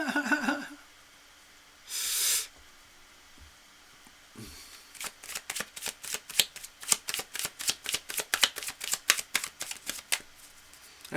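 Tarot cards being shuffled at close range: after a few scattered handling sounds, a long run of quick, evenly spaced riffling snaps follows in a steady rhythm, with no talking.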